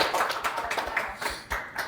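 Audience applause closes a holiday-season cybersecurity panel, a short burst of dense, close clapping that stays steady throughout.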